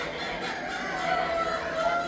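A rooster crows at a regional farm event with chickens and poultry on display, a drawn-out call heard at moderate distance over a steady wash of crowd noise.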